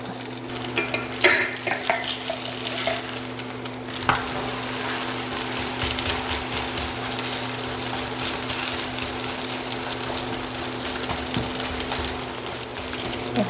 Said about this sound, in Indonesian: aku mau goreng dulu ya, mau aku balik-balikin dulu.